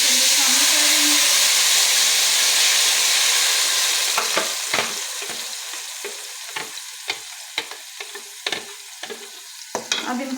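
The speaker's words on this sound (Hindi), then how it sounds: "ये मैंने टमाटर और प्याज ग्राइंड कर लिए हैं। अब इनको मैं ऑयल के अंदर शामिल कर रही हूँ।" A paste of ground tomato and onion hits hot oil for a beef paye curry, setting off a loud, steady sizzle that later eases into a quieter crackle broken by the scrape and clink of stirring.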